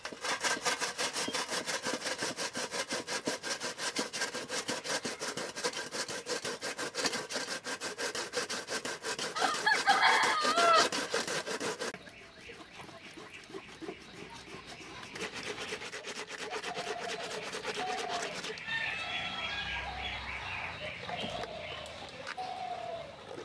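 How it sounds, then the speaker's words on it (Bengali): Ash gourd is rubbed over a homemade grater made from a perforated metal plate, giving fast rhythmic rasping strokes for about twelve seconds, then quieter scraping with faint background sounds. "এখন এই চাল কুমড়োটাকে ঘষে নেব।"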